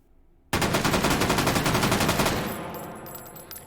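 FAL Para rifle resting on a bipod in H3VR, fired in one sustained automatic burst of fast, evenly spaced loud shots for nearly two seconds, followed by a fading echo and a few faint clicks.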